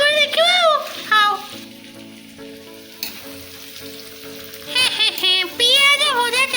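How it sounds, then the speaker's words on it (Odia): Onions frying in oil in a pan for an Odia crab curry, a steady sizzle running under a voice that talks through most of the clip, with the frying heard more plainly in a quieter stretch in the middle. "ପିଆଜ ଭଜା ଚାଲିଛି ଆମର, ଏପର୍ଯ୍ୟନ୍ତ ସରିନାହିଁ।"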